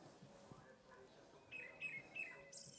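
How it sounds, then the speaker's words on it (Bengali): A bird calls in the Silk Route hills of Sikkim, giving several short, thin chirps in quick succession, fairly faint and mid-distance against a quiet outdoor background. "এই যে এতক্ষণ ধরে যে পাখিটা ডাকছে সেটা হচ্ছে ওই পাখিটা"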